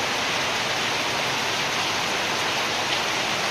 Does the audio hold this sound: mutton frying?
no